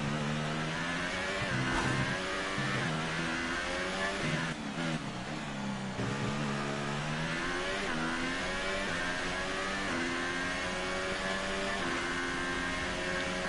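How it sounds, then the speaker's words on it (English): A McLaren Formula 1 car's engine in F1 2018, racing at Yas Marina circuit: loud, continuous high-pitched whine rising and falling through gear shifts and revving, with no talk over it. "this McLaren car seems pretty fast"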